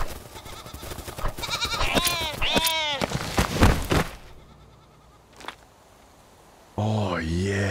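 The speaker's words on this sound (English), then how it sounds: "Oh! It's a goat!" Goat bleats in the survival video game Fountain of Youth: several wavering, harmonic bleats close by, followed by a short quiet stretch and then a loud sustained tonal sound at the end.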